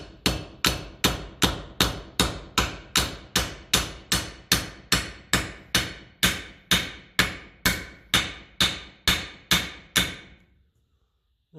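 A hammer strikes a metal part of a 1954 Ferguson TEF 20 diesel tractor about twenty times at an even, brisk pace, each blow ringing briefly, then the tapping stops into silence.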